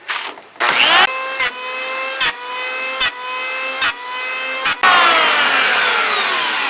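A saw cuts a scarf joint into the end of a new wooden boat plank, running in steady strokes broken by short pauses, then a longer continuous run of cutting at close range.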